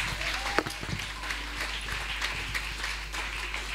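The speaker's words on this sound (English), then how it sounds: "Palakpakan po natin ang Panginoon." A church congregation at a ladies conference service claps together in worship, with sustained applause and scattered sharper claps over a low hum and faint voices.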